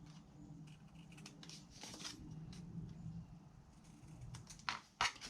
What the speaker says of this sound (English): And then I'll trim off my excess.